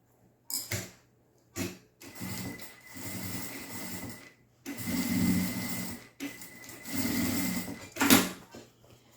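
A sewing machine runs in several short and longer bursts, stitching a lining to the main part of a pouch, with brief pauses between runs; close and fairly quiet.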